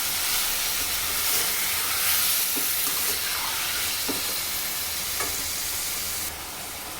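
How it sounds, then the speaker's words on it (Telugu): Tomatoes stirred in a hot frying pan, giving a steady, loud sizzling hiss with a few soft scraping stir strokes, no talking over it. "ఈ టమాటా టమాటాని అయితే మంచిగా కలుపుకోవాలి ఫ్రెండ్స్"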